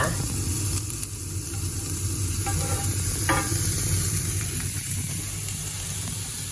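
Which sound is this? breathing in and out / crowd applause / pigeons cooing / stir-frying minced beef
stir-frying minced beef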